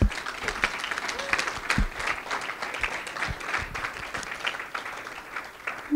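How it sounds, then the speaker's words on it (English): An indoor audience applauds a guest speaker at a sustainability showcase talk: dense, continuous clapping from many hands, holding steady for several seconds before thinning slightly. "So if you would just join me in applauding Erin Kitt-Lewis for coming."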